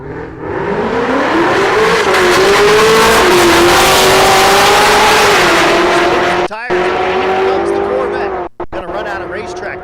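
A 2017 Corvette C7 and a 2021 Camaro launch side by side at a dragstrip, engines revving hard and rising in pitch with tire noise, loud and close, then cutting out abruptly near the end.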